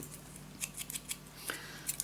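Scissors snip through a piece of paper for a handmade travel suitcase mini album, a series of short, crisp cuts in an uneven rhythm, close and fairly quiet.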